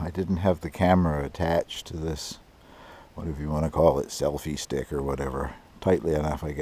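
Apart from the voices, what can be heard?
No distinct noise like a dog, phone or traffic.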